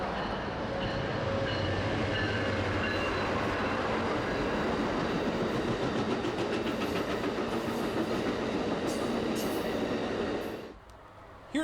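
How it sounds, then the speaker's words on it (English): A train rolls past near LA Union Station with a steady, loud rumble of wheels on rails, rising to a metallic rattle and faint squeal before it cuts away abruptly near the end. "then heard this train off in the distance"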